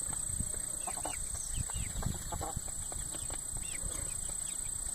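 Older hens and young chicks cluck and peep softly together, with scattered short calls over a constant background hum and light rustling, nobody speaking.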